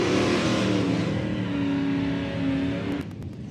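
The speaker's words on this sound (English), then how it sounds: "And Tarek Mumby comes back for round next of the Quick 8" Drag race cars roar off the line at a racing strip during a Quick 8 round at Eagle Field, loud engines revving and accelerating hard before cutting off near the end.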